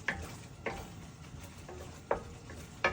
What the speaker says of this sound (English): So stir. When it becomes boiling, bubbly, give it like 1 or 2 minutes.